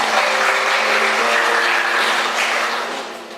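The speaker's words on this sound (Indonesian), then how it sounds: "kita sambut kita beri tepuk tangan" Church members applaud at a celebration for a newly married couple, a thick, continuous burst of many hands clapping close by, loud and sustained before tapering at the end.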